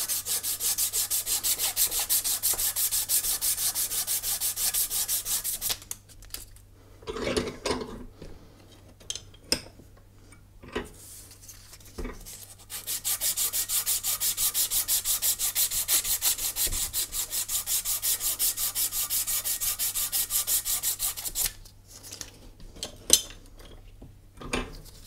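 Green abrasive paper rubbed by hand along a scratched bicycle seatpost, long runs of rapid back-and-forth rasping strokes, close and steady, broken by a pause with a few clinks and taps before the sanding resumes.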